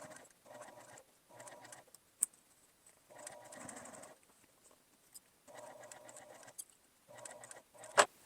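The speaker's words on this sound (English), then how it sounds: "I'm just going to top stitch it by using the edge of the narrow foot." A sewing machine top stitches a clear vinyl pouch using the edge of a narrow foot, heard as several short bursts of steady mechanical whirring separated by pauses, with small clicks between runs.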